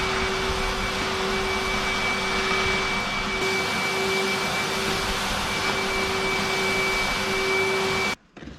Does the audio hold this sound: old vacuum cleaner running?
yes